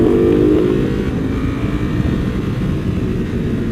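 A custom Ducati Monster 1200 is ridden with a loud, steady engine roar heard close throughout, with a brief higher rev at the start before settling into a sustained droning growl.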